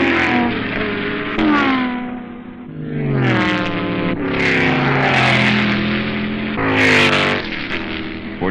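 Race cars, including a T220 Lola, scream around a speedway in a loud, continuous engine roar, with pitches rising and falling as cars pass close by one after another.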